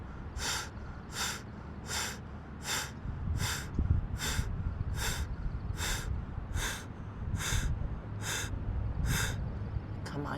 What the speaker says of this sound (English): That's incredible just to stay there and do breath of fire.